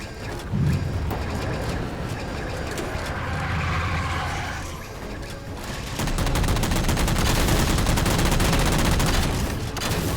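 Rapid gunfire from the Halo 4 video game, dense bursts of automatic shots and booms running continuously, growing heavier and louder in the second half.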